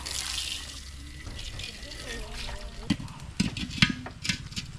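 Pancit noodles are rinsed under a running tap, giving a steady splash of water close by with irregular sloshes and clatters as the noodles are handled, while people talk.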